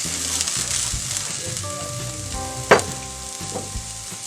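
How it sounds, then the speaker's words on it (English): Onion and tinned mackerel frying in a pan while being stirred, a moderate steady sizzle with soft scraping strokes and one sharp metallic clink from the utensil, near and without talk. "I'm going to give it a stir."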